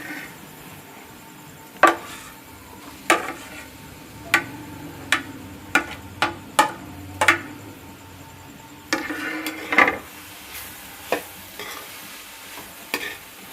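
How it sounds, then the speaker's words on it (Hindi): A spoon scraping and knocking in a pan while mashed potatoes are mixed in for bread rolls, a dozen sharp clacks at irregular intervals over a quiet low sizzle. "अब इसमें जो आलू हमने मैश किए हुए हैं वो मिक्स करेंगे।"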